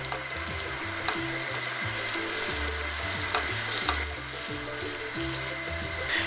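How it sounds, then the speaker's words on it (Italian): A knob of butter and a little oil sizzle and crackle steadily in a preheated frying pan over raised gas heat while penne alla Valdostana is being made. A low rhythmic background sound runs beneath, and there is no talking. "andiamo ad aggiungere una noce di burro, alziamo pure il gas, un pochettino di olio per non far bruciare il burro"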